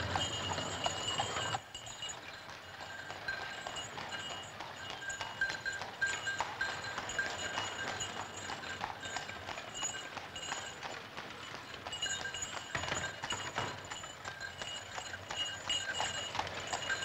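Horse hooves clop steadily on pavement as a horse pulls a horse-drawn cab, a fast continuous rhythm of hoof beats over wheel and street noise that runs the whole time.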